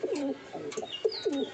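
Red checker racing pigeons coo in a loft, several close, soft throaty coos in quick succession with a faint chirp in the background.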